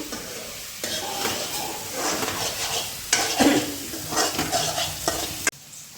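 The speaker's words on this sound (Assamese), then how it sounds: "এতিয়া মাংস ভাজি আছোঁ" Chicken or mutton pieces frying for biryani in a pressure cooker, stirred with a spoon that scrapes and clatters against the metal over a loud, constant sizzle.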